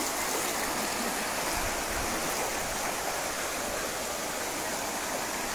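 Floodwater flowing during a severe flood makes a loud, continuous rushing roar that stays even from start to finish, with no voices.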